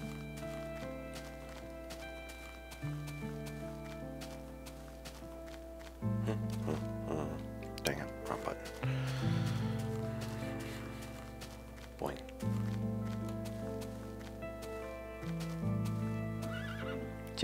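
A horse in a Minecraft game neighing and whinnying with clip-clop hooves, over looping game music at moderate level, with a voice speaking briefly.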